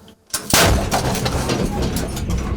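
A sudden, loud blast from an M109 howitzer booms close by after a moment of quiet, followed by a long rumbling roar that slowly fades.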